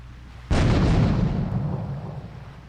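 Grenade explosion in water near a boat in GTA III: one sudden heavy boom that rolls into a long, fading, churning rumble, loud and alone.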